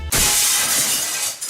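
A chandelier crashes to the floor in a video game with a loud burst of shattering glass, a bright crash that sustains and tinkles for over a second before tapering off.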